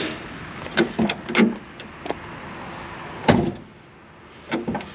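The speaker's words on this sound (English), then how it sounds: "Door shuts good." The door of a 1968 AMC AMX is shut several times, with a series of solid, close thumps and latch clicks spaced across a few seconds, some softer than others.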